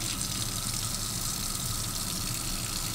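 Tap water runs steadily into a rice cooker pot holding a cup of rice, a continuous close gush with no break and no voices.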